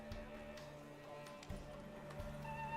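Horse hooves clip-clop faintly in Witcher 3, a few soft, spaced steps under a steady low musical background with no talk.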